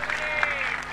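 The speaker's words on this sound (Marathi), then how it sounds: "टाळ्या करा जरा सर्वांनी टाळ्या करा दोघांसाठी" Crowd applause ringing out at an outdoor kusti wrestling bout in Mundhwa, Pune, a steady wash of clapping that runs through the whole moment while a voice carries over it.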